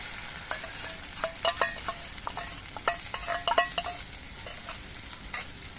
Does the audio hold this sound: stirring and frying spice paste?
yes